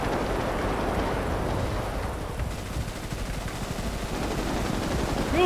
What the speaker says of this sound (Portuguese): os caras doidos dando tiro no L, velho.